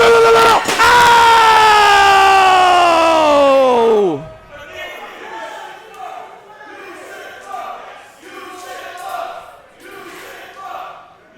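A wrestling event crowd at a lucha tag show roars loudly in a sustained chant-like yell that cuts off, followed by quieter crowd chatter, cheering and a commentator talking.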